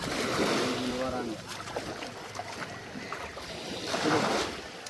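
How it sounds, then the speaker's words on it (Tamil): A small fishing boat approaches the shore near a fish auction, its engine and hull noise mingling with surf and wind, swelling at the start and end, while people talk in the background. "சின்ன போட் ஒன்று வருது இப்போ கரைக்கு"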